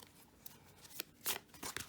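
Large tarot deck being shuffled by hand: several soft, brief riffling and sliding bursts of cards, close and fairly quiet, the strongest near the end, with no talking.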